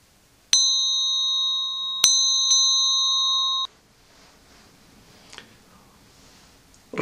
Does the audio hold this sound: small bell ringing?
yes